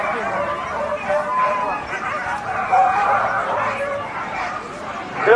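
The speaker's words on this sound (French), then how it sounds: "des chiens de course, des chiens puissants sur le podium." Powerful sled dogs bark and yip together at the start of an LGO 2022 stage at Peisey-Vallandry, a dense, continuous chorus of overlapping barks mixed with crowd chatter and commentary voices throughout.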